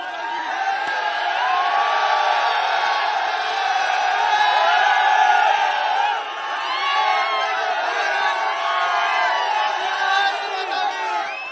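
A dense crowd at an election roadshow in Uttam Nagar, West Delhi, shouting slogans together, loud and continuous, with rising whoops and chanted cries filling the whole stretch.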